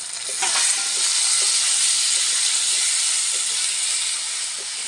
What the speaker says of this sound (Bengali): আলুটা হালকা করে ভেজে নিয়েছি এবার দিয়ে দেবো তার মধ্যে সিমটা সিমটা দিয়ে আরও পাঁচ মিনিট ভাজা ভাজা করে নেবো